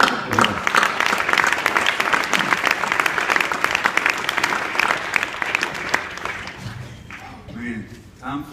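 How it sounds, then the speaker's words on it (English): Applause from an audience at a graduation ceremony following a valedictorian speech, a sustained crowd of clapping hands that runs for most of the stretch before fading, with a voice resuming near the end. "So let's give them a round of applause."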